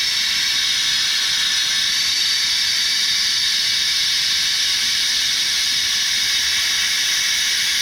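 Compressed air hisses steadily through a coolant system bleeding tool as the compressor is triggered, a loud, continuous, unbroken rush of air with no talking.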